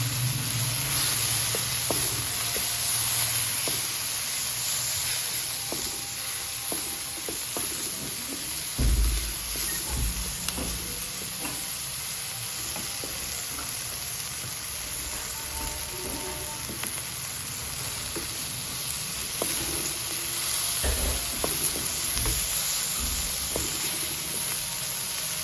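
Egg keema with black pepper, onion and cumin is stirred in a hot pan, a steady sizzle and hiss running throughout with occasional soft scrapes and knocks of the spoon against the pan.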